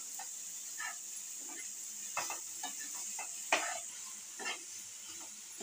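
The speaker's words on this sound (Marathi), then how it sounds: "आता ओलं खोबरं आणि गुळ एकजीव होईपर्यंत आपल्याला हे परतून घ्यायचं आहे." Grated fresh coconut and jaggery stirred in a pan on the stove, soft scraping strokes and faint sizzle at irregular intervals over a steady hiss, quiet and close.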